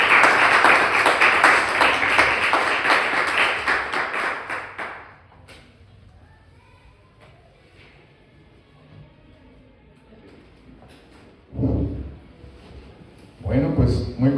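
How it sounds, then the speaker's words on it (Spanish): Applause from a lecture audience fills the first five seconds, a dense, steady patter of many hands that then cuts off, followed by a quiet room and a voice starting to speak. "Démosle un fuerte aplauso."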